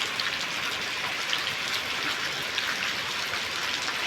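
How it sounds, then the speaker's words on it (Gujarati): Heavy rain pours down in a thick, unbroken hiss, steady and close, with no voices heard. "વરસાદના ભૂકા બોલાવી દીધા છે"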